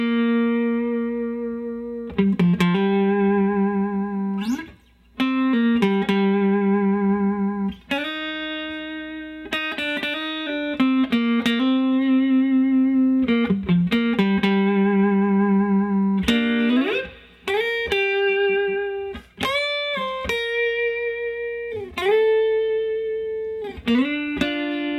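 Slow blues lead lick on electric guitar, clean and close, with sustained single notes, bends and hammer-ons in a steady phrase that runs continuously with brief pauses.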